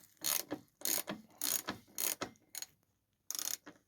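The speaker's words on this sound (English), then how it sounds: "so now that's the axle loosened, the pinch bolts on the other side loosened" Wrench ratcheting as a motorcycle front fork axle and pinch bolts are loosened: bursts of close mechanical clicking, roughly five short rounds with brief pauses between them, no talk.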